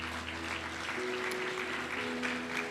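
A church congregation applauds steadily, a dense wash of clapping with no breaks, moderately loud and heard alone with no talk.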